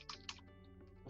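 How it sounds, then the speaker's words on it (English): Typing on a computer keyboard while filling in an online form: a few quick, quiet key clicks over a steady low hum. "I would go ahead and start typing into"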